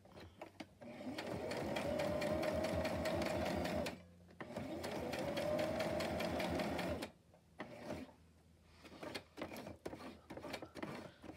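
A sewing machine stitching fabric on an index card, running in two steady whirring bursts of rapid needle clatter, then short stop-start spurts, close and clear.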